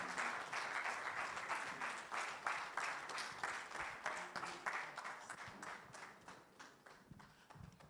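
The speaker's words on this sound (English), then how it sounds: "Please join me in giving a warm round of applause and welcome Professor Errol Lawson as he comes on stage." Church summit audience gives a warm welcome as a professor walks on stage, a steady wash of many hands clapping with a faint rhythmic pulse, slowly fading toward the end.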